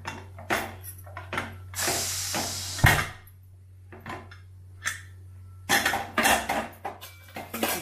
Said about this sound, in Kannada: ಕುಕ್ಕರ್ ವಿಷಲ್ ಆಗಿದೆ, ತೆಗಿತಾ ಇದ್ದೀನಿ ಈಗ.